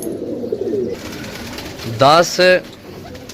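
Domestic pigeons, bought as a group of thirteen, give two short close coos near the end while a man counts aloud.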